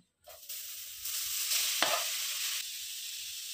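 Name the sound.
cooking coconut filling for modak in a pan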